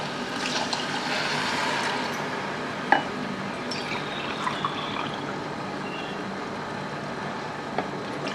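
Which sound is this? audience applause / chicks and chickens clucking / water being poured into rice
water being poured into rice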